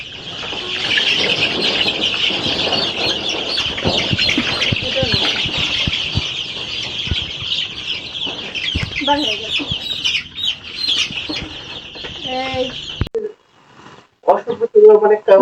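Chickens and roosters cluck and call densely and loudly throughout, nearby, with a brief pause near the end before more close clucking and some talk.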